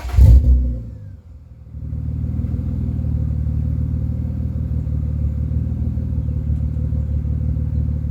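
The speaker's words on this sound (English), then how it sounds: "I'm gonna give it some revs" A 1999 BMW M Roadster fitted with a Turner Performance exhaust, warm at idle, gets a sharp rev blip and then settles into a steady, loud, rumbling idle that runs alone with no talk.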